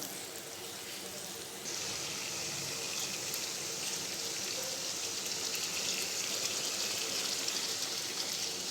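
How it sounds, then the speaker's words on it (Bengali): A pot of rice boils on the stove in a home kitchen, a steady soft bubbling and hiss that swells slightly louder after a couple of seconds and continues alone. "এদিকে আমার ভাতও ফুটে গেছে"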